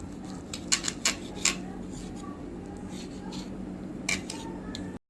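Knife slicing through prawn-stuffed colocasia-leaf vadis on a plate, giving a few crisp, scraping cuts in short bursts, close and moderately loud over a low room hum.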